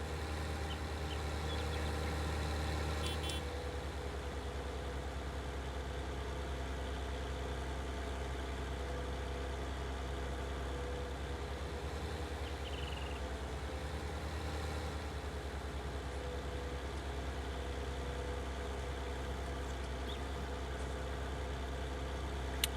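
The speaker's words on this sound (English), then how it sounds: "Very nice tractor, I have to admit." A tractor engine idles in Farming Simulator 19, a steady, continuous mid-to-low drone that runs unchanged for the whole stretch, with no talking over it.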